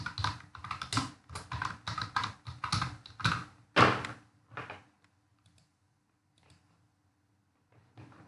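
Rapid keyboard typing for about four seconds with a final louder key strike, close and clear with no speech, then near silence and one faint tap at the end.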